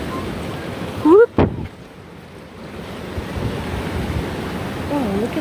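Ocean surf washes into a rocky tide pool at La Jolla, California, a steady broad rush of water and wind noise after a brief voice, building slightly as the wave arrives.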